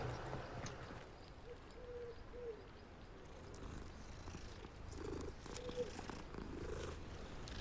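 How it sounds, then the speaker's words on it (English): A cat purrs while being petted in the Hogwarts Legacy video game, giving a soft, continuous rumbling purr with gentle pulses, heard quietly and alone with no talk. "Let's pet the kitty."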